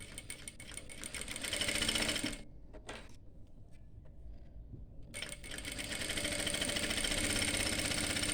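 An electric sewing machine runs a double line of stitching along a garment seam during a tailoring lesson. The motor whirs steadily and close, cuts out for about three seconds, then starts up again and keeps running, with no talking over it.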